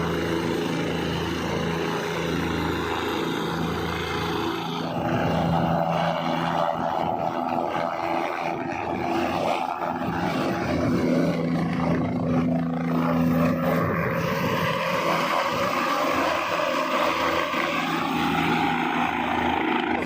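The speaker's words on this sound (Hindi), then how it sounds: "तो ये आ रहा है जो कि सोनप्रयाग से।" A helicopter arrives from Sonprayag at Kedarnath in the mountains, its continuous loud rotor and engine roar filling the air and swelling as it draws nearer, with no voices over it.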